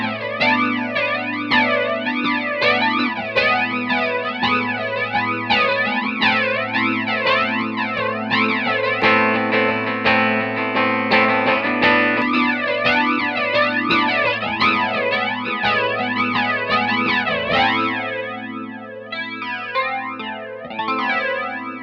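Electric guitar through a vintage Electric Mistress flanger pedal, sweeping jet-like swirls over sustained chords, loud and continuous with a steady low hum of background noise underneath, no talking, fading near the end.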